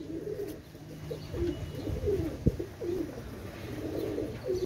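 Male Golden pigeons coo repeatedly in soft, rolling phrases over a low background rumble, with a single sharp knock midway.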